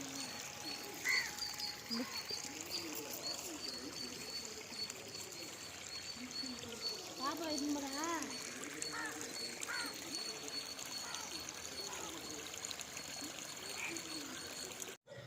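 Water gushes steadily from the 2-inch outlet of a 900W BLDC solar pump on a farm, a continuous pouring and splashing rush with faint voices in the background.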